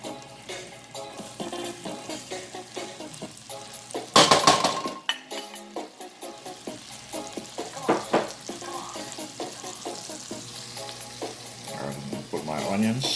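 Garlic hits a hot pan with a loud burst of sizzling, then settles into a steady close fry broken by the clink of a utensil stirring against the pan.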